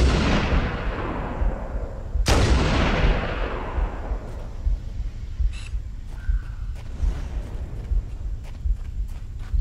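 Sniper rifle in Halo: Combat Evolved, a single sharp, loud report with a long, booming decay, followed by scattered faint game noises.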